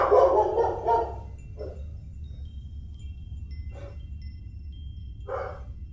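A dog being dog-sat barks about four times at irregular gaps. The first bark is a loud cluster, and the later ones are shorter and quieter, over a steady low hum.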